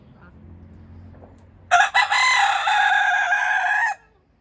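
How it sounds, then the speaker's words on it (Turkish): A Fayoumi rooster crows loudly once, a long bright call close by, with faint clucking from hens before it in an otherwise quiet setting. "Tıpkı şu an horoz ve yanındaki tavuklar gibi"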